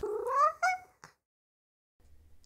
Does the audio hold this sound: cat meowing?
yes